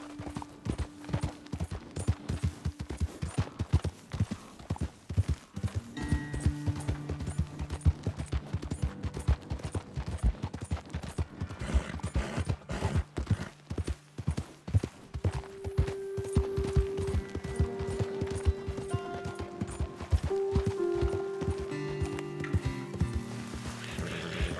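A horse gallops in Red Dead Redemption 2, its hooves pounding in a fast, continuous rhythm under tonal game music, with no talking.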